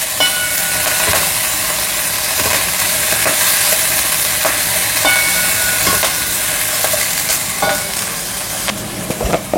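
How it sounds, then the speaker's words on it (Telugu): Ponnaganti greens and chopped onion are stirred in a hot pan, a steady sizzle and hiss of frying running throughout with soft scraping strokes of the spoon, close and fairly loud, with no voices. "కొంచెం ఉల్లిపాయ, ఆకుకూర అంతా కలిసేలాగా కలుపుకోవాలి."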